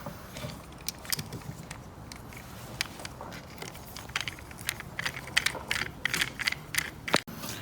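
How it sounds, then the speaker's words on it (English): Screws being driven back into an ATV clutch cover on a Venom Motorsports Madix/Grizzly, close sparse metallic clicks and ratcheting taps that grow denser toward the end, with no talk. "Put our screws back in."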